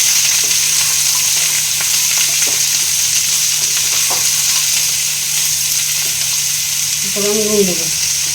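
Ridge gourd sizzles steadily as it fries in a pan, a constant loud hiss with light stirring scrapes and a brief tonal squeak near the end, no talking.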